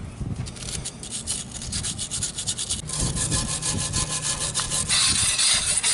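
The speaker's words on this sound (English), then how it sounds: "Let's just give the terminal bars here a little scrub." Battery terminal bars are scrubbed clean with a brush in steady rhythmic back-and-forth strokes, close and fairly loud, growing harsher and busier toward the end.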